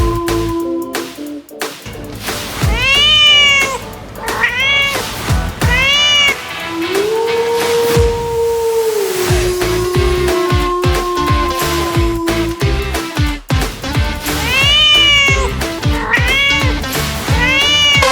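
People imitate a cat during a village team game, with repeated loud, drawn-out meowing calls and caterwauls, close and strong, coming in several bursts across the stretch amid some background clatter.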